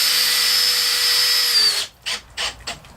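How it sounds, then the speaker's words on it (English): A power drill drives a self-tapping screw into a pool gate stop, its high motor whine running steadily for almost two seconds before cutting out, followed by a few short, separate bursts of drilling or rubbing. "Just use the self-tapping screw"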